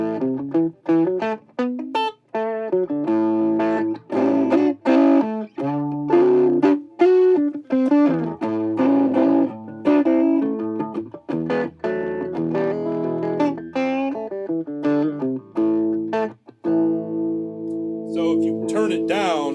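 An electric guitar played through a 1950s non-master-volume tube amp plays chords and riffs with a gritty, overdriven tone, loud and close, ending on a sustained ringing chord.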